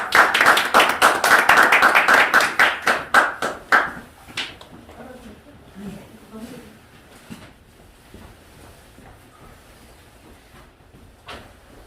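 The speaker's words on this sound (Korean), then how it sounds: "뜨거운 박수로 많이 부탁드립니다." An audience claps for a speaker's introduction at a communication and speech lecture, a rapid burst of loud applause that fades out after about four seconds, followed by quiet room tone with faint movement and a brief sharp knock.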